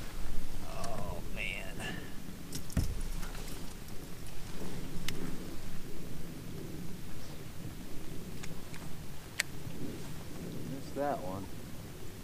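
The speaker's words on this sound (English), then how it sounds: "Started to rain on me." Rain falls steadily around an angler out fishing, a constant outdoor hiss with scattered sharp clicks and brief knocks, while someone talks quietly over it.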